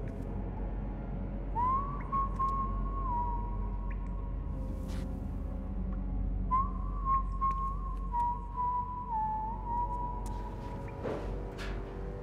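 A faint, slow whistle holds a few sustained notes in two long phrases, with a soft hum and occasional clicks in the background.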